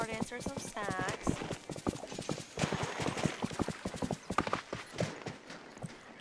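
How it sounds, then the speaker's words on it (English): Horse hooves clip-clop in a quick trotting rhythm across varied terrain in Disney Dreamlight Valley, the steady beats close and clear, with a brief whinny-like tone near the start and talk mixed in. "I really like how the sound of walking and the horses trotting on different types of terrain sounds."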